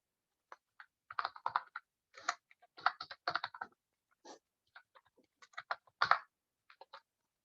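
Java code being typed on a computer keyboard: bursts of crisp keystrokes in irregular clusters with short pauses between them, close and clear against a quiet background.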